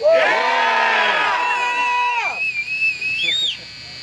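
A crowd at a patriotic parade and toy drive in Fort Myers, Florida roars "yeah" in unison, a loud sustained group shout that breaks into scattered cheers, whoops and a high whistle as it fades.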